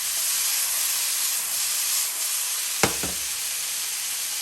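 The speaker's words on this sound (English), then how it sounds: "So our shrimp are cooking." Shrimp cooking in a pan with half and half, making a steady loud hiss and sizzle, with one sharp knock partway through and no talking.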